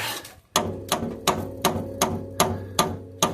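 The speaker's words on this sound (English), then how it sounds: "The spring and the color hit each other." Motorcycle suspension spring striking its adjustment collar, eight sharp metallic knocks at an even rhythm with a short ringing tail after each, close and distinct with no talk.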